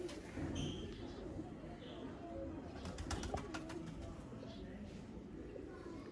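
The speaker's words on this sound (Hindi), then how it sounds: "सफेद कानों वाला टैडी जोड़ा" A white-eared Teddy pigeon pair in a home loft gives soft cooing under steady room noise and a voice, with faint wing or foot shuffles partway through.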